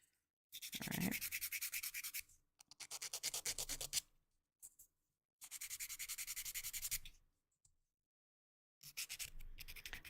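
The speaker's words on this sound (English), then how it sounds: "Sanding the edges, because that's basically where it's attached to the wood." A wooden mini kit piece has its edges hand-sanded in close, quiet bursts of rapid rhythmic scratching, several strokes repeated in separate runs with silent pauses between them.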